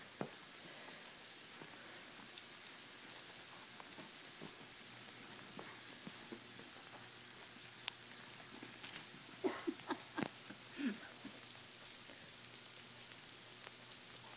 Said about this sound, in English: Is this rain? Yeah, I told you it was rain.